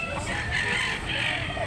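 Gamefowl rooster, a black-legged, green-legged Talisayon Gray at a market in Carbon, Cebu, giving one loud, close crow that fills the short stretch.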